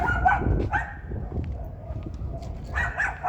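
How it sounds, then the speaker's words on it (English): Dogs barking in a noisy outdoor setting, several short, mid-loud barks in the first second and again near the end over a steady low rumble, with roosters or other fowl also calling. "These damn dogs."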